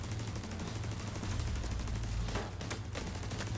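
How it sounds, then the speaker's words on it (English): Distant automated turrets fire in The Division 2 in rapid, quiet bursts of gunfire under a steady low background rumble, with a couple of sharper shots near the end. "There are 2 turrets shooting that guy in the background"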